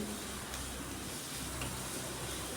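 Chopped onion frying in oil to crisp for chicken biryani, a steady dense sizzle and hiss with no pause, fairly quiet and heard alone.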